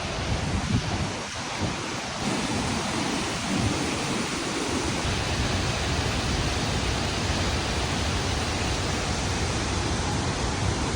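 Phankri waterfall pours onto rocks in a loud, continuous close-up roar, with some wind buffeting the microphone in the first few seconds.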